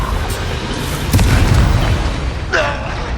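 A booming spell explosion from a video game, a deep burst around the midpoint with a smaller blast near the end, loud over game sound.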